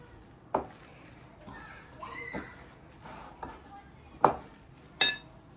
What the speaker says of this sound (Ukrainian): Гарненько все треба перемішати.